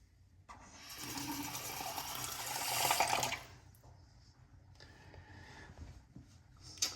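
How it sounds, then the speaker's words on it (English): Tap water runs as a face is rinsed after a shave, a steady close splashing hiss that swells for a few seconds, then drops to softer, intermittent trickles and drips. "Nothing missed, let's just rinse."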